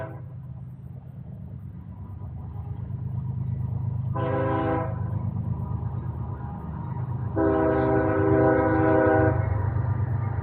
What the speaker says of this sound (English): Oh, it's a freight train.